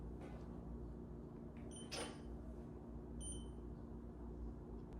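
Two short electronic beeps from a Kyosho Fazer D2 Toyota AE86 RC drift car's gyro finishing calibration, about a second apart, rise faintly above a steady loud mechanical hum.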